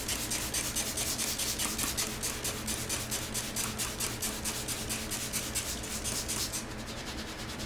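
Cleaner being rubbed by hand into a stained carpet gives a rapid rhythmic scrubbing, brushing texture, close and steady, that eases off near the end.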